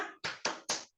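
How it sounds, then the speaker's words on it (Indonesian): A rhythmic 'tepuk semangat' clapping pattern in a children's class, four sharp, evenly spaced claps in quick succession, close and clear with short silences between them. "Tepuk-tepuk dulu biar anak-anaknya semangat ya."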